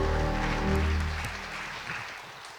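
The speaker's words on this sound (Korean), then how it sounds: "우리 구원의 하나님께 박수의 영광을 돌립니다." A church congregation claps together during a revival service, a dense burst of applause that swells briefly and then thins out, with lingering sustained tones from music beneath.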